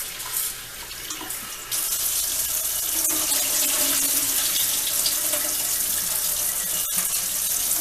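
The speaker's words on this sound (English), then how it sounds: "rinse that rice out." Tap water runs steadily into a sink while rice is rinsed for making cone sushi. The rush is loud and continuous, with a brief clunk near the end.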